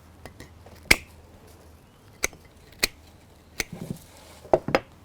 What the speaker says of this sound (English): So now it's full, I'm just going to trim off the ends.